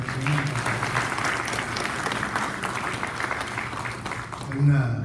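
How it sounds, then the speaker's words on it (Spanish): Audience applause at a seminar on corruption and business, steady dense clapping throughout with a crowd texture, loud and sustained across the whole stretch. "Pido un fuerte aplauso por el"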